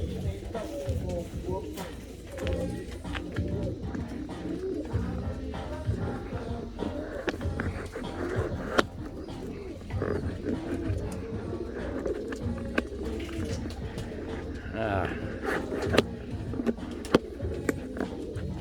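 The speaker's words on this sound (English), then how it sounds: "let me show you a little bit of what some of New York Tony's birds look like" Soft, low pigeon coos repeat throughout, mixed with rustling and shuffling close by, while people talk intermittently in the background.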